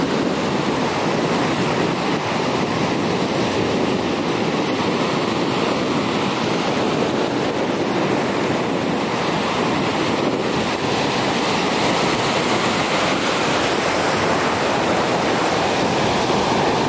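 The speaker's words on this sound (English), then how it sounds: "The waves are pretty low." Low ocean waves wash steadily onto a Baja beach, a continuous broadband roar of surf with wind noise across the microphone and no voices.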